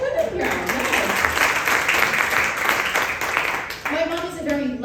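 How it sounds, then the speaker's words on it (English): Comedy-club audience clapping for the Italian women during a stand-up set, a dense, even patter of many hands lasting several seconds before tapering off. "Clap it up for the Italian women here."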